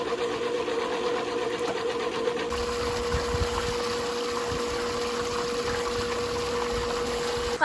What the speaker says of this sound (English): the filter and the motor are primed and it is flowing so well.